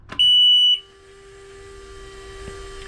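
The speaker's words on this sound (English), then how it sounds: "When we key on, you're going to hear an alarm." A boat's alarm sounds as the ignition is keyed on: one loud, steady high-pitched beep lasting about half a second, then a lower continuous tone and faint hum.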